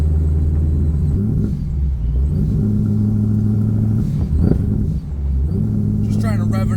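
Chevrolet Corvette C7 fitted with new mufflers, its engine holding a steady low droning rumble close by, with a couple of brief rev rises and dips.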